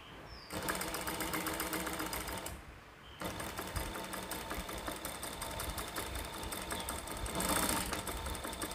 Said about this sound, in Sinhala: දැන් මං ඊළඟ අත් කොටස මසන්න යන්නේ.